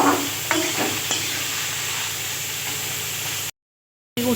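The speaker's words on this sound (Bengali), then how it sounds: "তেলে কালো জিরে ফোড়ন দিয়ে আলুগুলো ভেজে নিচ্ছি।" Potatoes fry in oil tempered with black cumin seeds, giving a loud, steady sizzle with a few stirring scrapes near the start. The sound cuts out briefly before resuming.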